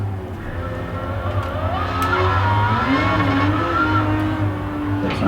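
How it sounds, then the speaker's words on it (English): A race car engine in Gran Turismo 7, played in VR on a PS5 Pro, revs and whines steadily with shifting pitch, moderately loud and continuous with no talk. "Sounds nice, that car."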